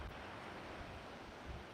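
Ocean surf and wind on a sunny afternoon at the shore, a steady, broad roar of waves with wind buffeting the microphone, continuous and fairly close with no voices.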